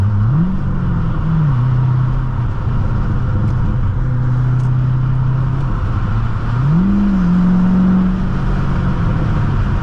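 A 2006 Chevrolet Corvette Convertible with a six-speed manual drones loudly in sixth gear from inside the cabin, the engine note rising twice as it accelerates over a steady low rumble.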